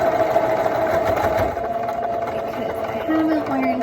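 A sewing machine stitches a short seam on a fabric face mask, giving a steady, close mechanical whir that runs continuously for about four seconds.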